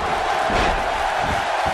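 A big wrestling crowd in Dallas roars steadily for Ash Ketchum, a dense, loud, sustained wash of cheering voices with no break.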